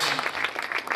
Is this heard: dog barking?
no